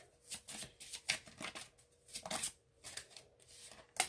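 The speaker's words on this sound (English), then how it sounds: "Let's pull some love oracle cards." Love oracle cards shuffled by hand, a rapid series of soft riffling and slapping bursts in an irregular rhythm, close and quiet, with no talking.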